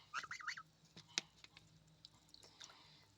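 Geese give a few faint honks and squawks amid quiet rustling and pecking sounds, distant and sparse.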